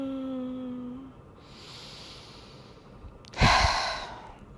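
A slow deep breath drawn in and then a long, loud exhale near the end, close and intimate during a quiet pause with no talk.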